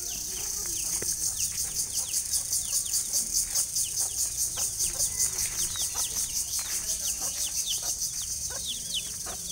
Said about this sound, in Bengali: এই যে মুরগি কামড় দিবে কিন্তু মিনহাজ